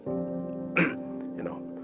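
One short, sharp cough bursts out midway through, over a steady humming voice that carries on throughout.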